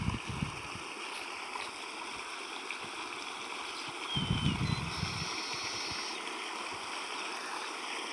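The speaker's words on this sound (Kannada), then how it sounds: "ಬೇರೆ ತೊಗರಿಯಾಗ ನೀರೇ ಹೊಂಟಾವ." Floodwater flows through a field of pigeon pea plants, a continuous close rushing and gurgling wash with a few louder splashes, heard alone without talk.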